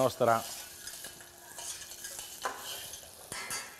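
Cherries brown in a pan with a low, crackling sizzle, opening with a brief clink of metal and then a few light scrapes and taps from stirring.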